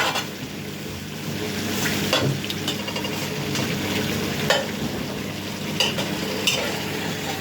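Butter melts in a pan on a home stovetop while a stirring utensil scrapes through it, giving a steady close frying sizzle with a few sharper clinks and scrapes spread across the stretch, and no one speaking.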